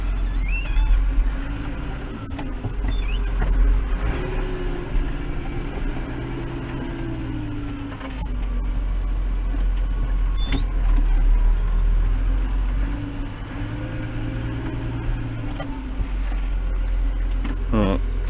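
A Massey Ferguson 6160 tractor, set up for hedgecutting, runs with a steady, low engine drone and rumble throughout, with occasional clicks and someone talking over it.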